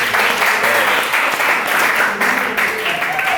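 Students in a classroom clap together in a loud, steady burst of clapping that stays dense and continuous throughout, with faint voices underneath.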